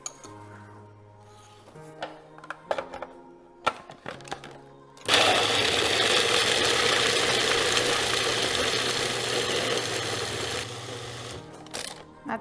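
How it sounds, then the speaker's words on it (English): A food processor blends walnuts with cinnamon and sugar, starting with a few brief pulses and clatter, then running in one loud, steady whirring grind for about six seconds before winding down. "We're gonna put in our food processor."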